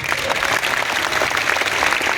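An audience applauds loudly and steadily, a dense, continuous wash of clapping at an event gathering, with no break.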